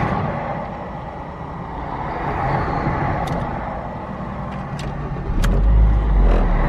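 Car engine idling and creeping as the vehicle pulls out of a grass parking area, a steady low rumble that swells louder near the end with faint clicks, no talking.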